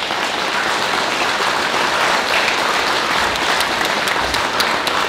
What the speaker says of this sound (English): Let's clap your hands.